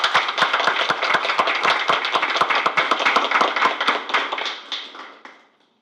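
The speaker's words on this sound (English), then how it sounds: "please join me in giving a big round of applause for these outstanding teachers." An audience at a school board of education meeting applauds outstanding teachers, with several seconds of close, distinct hand claps in a steady rhythm that taper off and fade to silence.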